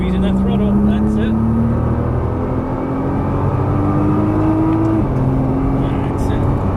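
Nissan GT-R engine accelerating on a track as the driver squeezes the throttle, with a loud, steady, rising drone heard from inside the car and a brief dip at a gear change, under an instructor's voice.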